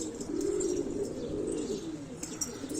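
Pigeons coo in a loft, a close, continuous low rolling warble with faint chirps and a brief flutter of wings near the end, no talk.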